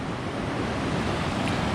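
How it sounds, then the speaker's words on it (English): Rushing water of Tanner Canyon Rapids on the Colorado River in the Grand Canyon, a steady broadband roar that stays even throughout, with some wind noise and no voices. "So these are the Tanner Canyon Rapids."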